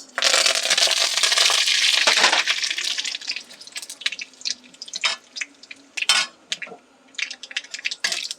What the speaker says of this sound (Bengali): এবার আমি এখানে কালো সর্ষে আর কারি পাতার ফোড়ন দিচ্ছি